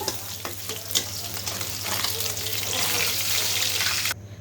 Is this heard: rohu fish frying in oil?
yes